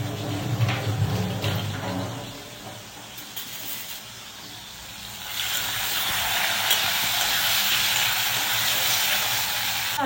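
Potatoes fry in hot oil with a soft sizzle and occasional stirring, turning into a louder, brighter steady hiss halfway through, close by with no talk.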